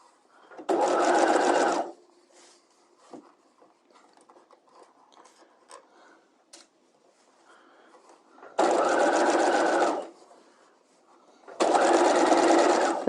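A sewing machine stitches a straight sleeve into a dress in three loud, even bursts of rapid whirring, with quieter handling noises in the pauses between runs.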